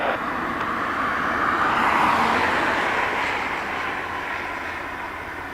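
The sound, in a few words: C-130 Hercules aircraft departing Dublin Airport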